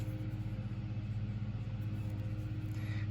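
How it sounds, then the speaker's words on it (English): A small engine drones steadily at a low, even pitch in the background, a constant mechanical hum with no speech. "Sorry for the noise if you can hear the lawnmower in the background"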